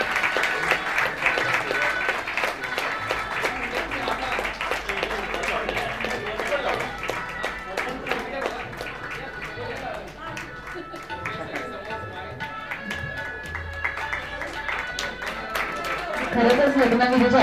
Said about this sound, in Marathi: टाळ्यांचा गजर आपण चालू ठेवूया.